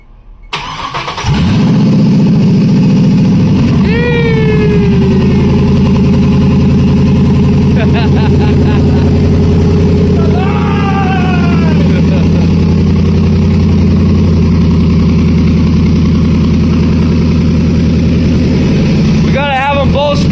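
An LS-swapped Chevrolet Colorado truck engine cranks and catches, then settles into a loud, steady, rumbling idle for the rest of the clip while voices talk over it.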